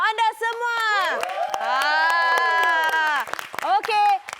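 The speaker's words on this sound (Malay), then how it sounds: "berikan tepukan semangat untuk anda semua" A TV quiz show studio audience clapping and cheering, whoops mixed in, while overlapping voices sing or shout over the applause for several seconds.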